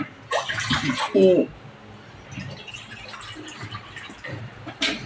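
Water poured into a cooking pot to make a thin rice-flour batter, splashing and sloshing in short bursts with louder pours near the start and end, faint kitchen clatter between.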